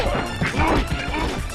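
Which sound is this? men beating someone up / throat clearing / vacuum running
men beating someone up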